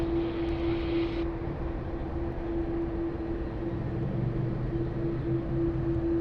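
An airliner at Sydney Airport produces a steady, broad engine roar with a constant low hum throughout, moderately distant and unbroken by speech.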